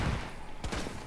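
Gunfire in a video game, a short burst of rapid shots, loud and close, over a noisy game background.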